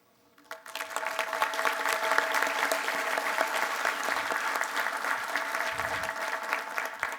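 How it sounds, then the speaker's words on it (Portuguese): Audience applause at the FIEC Summit 2022 opening ceremony, an industry federation event, starting abruptly and swelling into a steady, dense, sustained clapping from a large crowd, with no speech. "Merece todo o nosso aplauso"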